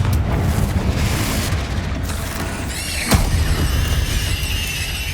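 A Confringo blasting spell from Hogwarts Legacy detonates as one sharp, loud burst, a deep booming blast that rises over a constant rumbling background of game noise and leaves a brief ringing tail behind it.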